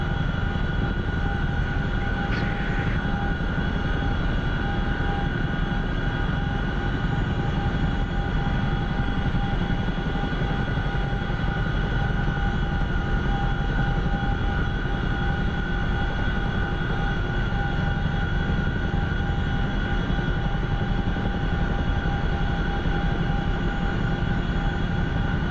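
A Boeing CH-47 Chinook tandem-rotor helicopter runs in the DCS flight simulator game, a steady, dense engine and rotor drone with a constant whine, even in loudness throughout and heard alone.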